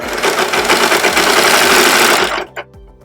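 A serger stitches off a thread tail, a close, loud, rapid whirring chatter that runs steadily for over two seconds, then halts with a brief click.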